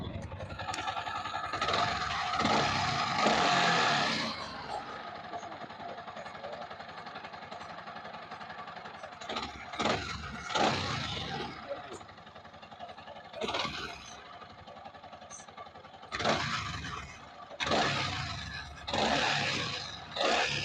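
A Yamaha MT 15 motorcycle engine with a problem noise during servicing, with carbon built up in the throttle body. Rough bursts of engine roar rise and fall, separated by quieter running in between.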